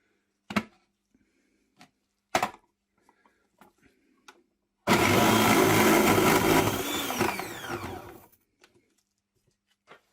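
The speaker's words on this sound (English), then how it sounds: "we'll now grate this beetroot" Beetroot is rubbed hard against a grater for about three seconds, a loud rasping scrape that tapers off, preceded by a few sharp kitchen knocks and clicks.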